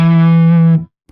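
A single sustained note through a guitar overdrive pedal set near two o'clock, buzzing with thick harmonic distortion, loud and steady before cutting off abruptly.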